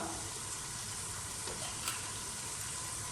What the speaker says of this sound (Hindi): दही डाल के इसे हम 2 से 3 मिनट अच्छी तरह मज़ीद भून लेंगे